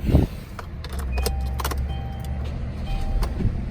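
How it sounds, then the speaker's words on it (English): A key turns in the ignition of a Kia Optima, switching the car on: a short click and jingle, then a steady low electrical hum with small clicks and chimes, close and alone. "Car on."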